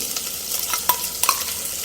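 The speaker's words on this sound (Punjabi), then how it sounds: "ਹੁਣ ਪਾ ਦਾਂਗੇ ਹਰੀ ਮਿਰਚ ਅਦਰਕ ਤੇ ਲਸਣ" Green chilli, ginger and garlic frying in a pan with browned onions, a soft steady sizzle with a few sharp spatula scrapes and clinks up close, with no talking.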